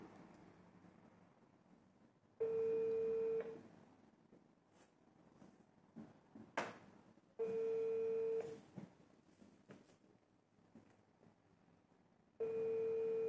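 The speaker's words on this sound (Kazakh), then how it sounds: "телефон довериясына чалып жатабыз" Ringback tone from a call to the education ministry hotline that goes unanswered: three steady, long tones, each lasting about a second and repeating every five seconds, with faint line hiss between them.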